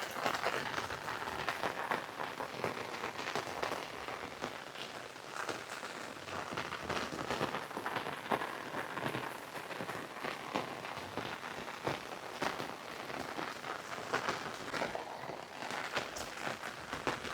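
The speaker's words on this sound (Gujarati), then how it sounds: "એક બાજુ વરસાદે ચાલુ છે" Rain falls steadily outdoors as a soft, continuous patter with scattered drips and crackles. The sound is fairly faint and has no voices over it.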